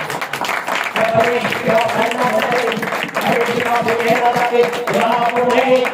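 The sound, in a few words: congregation applause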